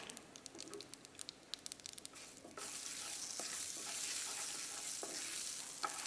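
Oil crackles and spits as mustard seeds, urad dal and three dried red chillies hit the pan, a dense, steady sizzle that grows louder after a few seconds of light patter.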